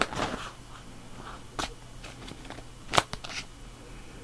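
Scissors snip clear plastic close to its edge for a shaker card, giving a few sharp, quiet crisp cuts and rustles spaced apart in a quiet room.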